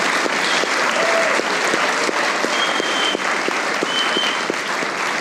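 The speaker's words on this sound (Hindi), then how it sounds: "एक बार आतिफ असलम के लिए तालियां हो जाएं।" Loud, sustained applause from a studio audience on a Pakistani comedy talk show, steady dense clapping filling the whole stretch with no talk over it.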